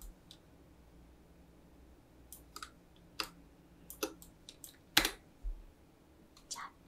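Scattered computer keyboard shortcut presses and mouse clicks during Photoshop work, sparse and quiet, sharp little taps with gaps between them.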